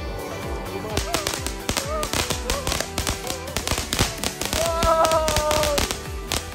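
Repeated sharp popping bursts of Fourth of July fireworks crackle in an irregular rhythm, with people talking over them and a brief whistling tone near the end.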